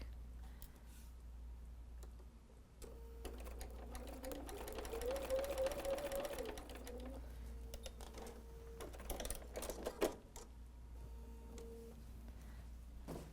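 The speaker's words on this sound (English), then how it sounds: "I just want some more stitches in this fabric." Sewing machine stitches quilt fabric in short bursts, a quiet rapid mechanical whirring and ticking that starts and stops, close by and faint, with small handling clicks in between.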